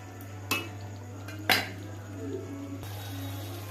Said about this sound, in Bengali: এবার মাংসের ঢাকাটা দিয়ে দিই।